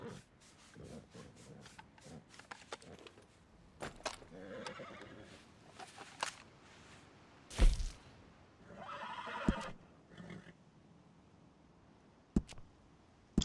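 A horse in the Red Dead Online game gives a loud, clear whinny partway through, among scattered hoof clip-clops, thuds and rustling gameplay noise, with no talking.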